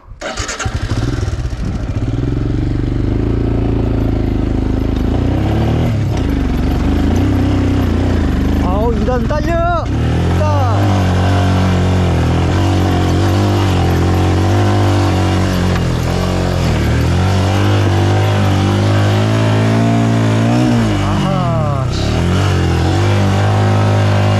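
A Royal Enfield Scram 411 rides off-road on a slippery track, its single-cylinder engine thumping loudly and steadily and rising and falling with throttle changes, with a voice talking over it.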